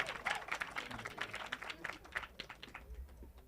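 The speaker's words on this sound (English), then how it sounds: "big round of applause for you" Applause from an audience at a listening panel during an event, a quick run of scattered claps, moderately close and fairly quiet, fading toward the end.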